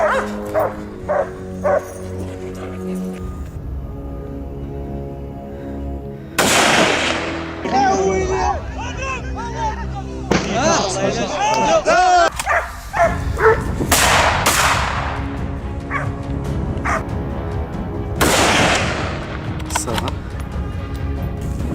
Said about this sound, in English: within moments, their barks rang through the woods again